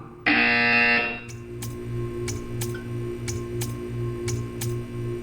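A buzzer in the video game Portal 2 gives one long, loud, harsh electronic blare, then stops, leaving a steady hum with sharp ticks at regular intervals.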